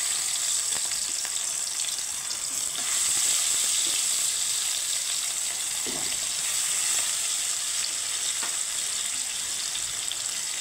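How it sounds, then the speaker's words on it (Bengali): Fish pieces fry in hot mustard oil in a wok, giving a loud, continuous, close sizzle with a bright hiss and no talk. "মাছটাকে ভেজে নেব।"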